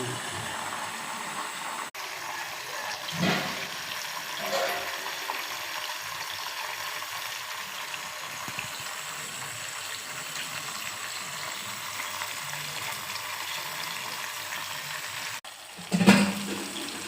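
Homemade ghee simmers gently on a low flame, producing a soft, continuous bubbling hiss with occasional louder bursts near the start and end, and no one talking.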